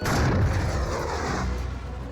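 An anti-tank weapon fires at a tank on a wartime battlefield: one loud, close boom at the start, followed by a long, heavy rumbling decay with no voices.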